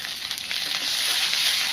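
Ginger and garlic spice paste frying in hot oil in a pan, a close, steady sizzle with a continuous hiss and faint crackle.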